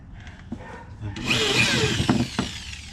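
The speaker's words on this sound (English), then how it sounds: "I got my drill here with my Harbor Freight step bit" A power drill fitted with a Harbor Freight step bit bores a hole through plastic, a brief whining grind that swells quickly then cuts off, close by with a few knocks around it.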